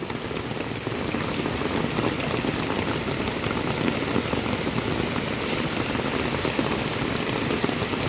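Heavy rain pours down steadily in a dense, loud hiss with a rumbling low end, constant throughout with no voices.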